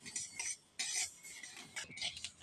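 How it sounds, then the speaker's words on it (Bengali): White mustard seeds are dry-roasted and stirred in a wok, giving bursts of scraping, rattling seed and utensil noise in uneven strokes, close and fairly quiet, with no talking. "গরম করার মধ্যে আমি সাদা সর্ষেটা একটু ভেজে নেবো"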